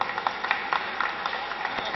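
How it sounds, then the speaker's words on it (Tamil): Audience applause for Kasilingam at a ninth-year anniversary function in Tamil Nadu, a steady wash of many hands clapping at moderate distance, continuing evenly without a break. "அவருக்கு ஒரு கைத்தட்டல் போடும்"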